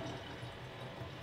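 Central heating inhibitor liquid pours into a funnel in a steady, soft gurgling wash over a short moment, fairly quiet and unbroken.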